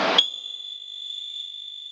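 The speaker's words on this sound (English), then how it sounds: "The buzzers tell us that the water tank has been filled and we should switch it off" A short burst of noise, then a steady, piercing electronic buzzer tone from a water tank level alarm model that holds unbroken for nearly two seconds.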